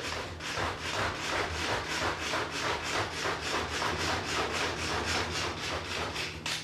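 A knife chops Kalamata black olives on a board in a fast, steady run of rhythmic cuts that continues evenly throughout, close and moderately loud with no talk.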